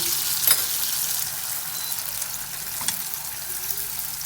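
Fasnacht dough frying in oil while being basted, a soft continuous sizzle with a couple of faint clinks, close and steady without talk.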